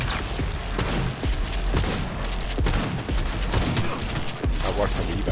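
Combat in Cyberpunk 2077 erupts as a thrown grenade explodes amid rapid gunfire, a dense barrage of loud thumps and bursts packed one after another, with voices speaking through the din.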